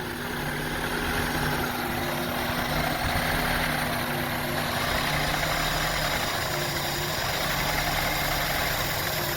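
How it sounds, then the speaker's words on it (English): A Honda CR-V engine idles roughly, a steady uneven mid-to-low rumble with a faint vibrating hum, heard up close and continuous with no talk. "now you can hear the sound, you can hear the engine"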